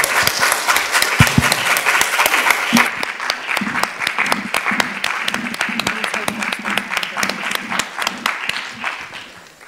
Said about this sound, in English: Can we have a round of applause, please, for Lisa?